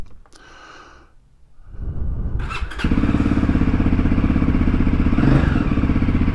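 Voge 300 Rally motorcycle fitted with a Powerflow and foam air filter, starter pressed and the single engine catching, then settling into a loud, steady close-up idle with a rapid even pulse.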